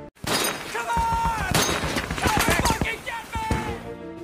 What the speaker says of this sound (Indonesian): Dan ia langsung menembakkan senjatanya secara asal-asalan.